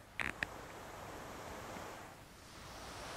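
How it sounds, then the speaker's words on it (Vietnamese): An HP Spectre x360 13 convertible laptop from 2019 with its cooling fan running under high load, a steady close whooshing hiss that fills the clip after a couple of brief clicks at the start. "khi bắt đầu chạy ở chế độ cao thì quạt bắt đầu kêu. Mình sẽ để mic gần để các bạn nghe thấy. Có tiếng gió xe xe."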